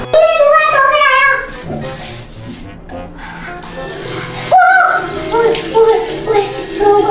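Hot water running from a household tap during hand and face washing, a steady splashing stream under loud, close voices of children and adults talking throughout.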